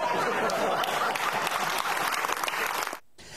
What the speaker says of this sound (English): a lot of applause for that idea